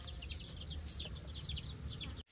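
Backyard egg-laying hens cluck and chatter in a short, dense burst, close and fairly loud, with no talking over them.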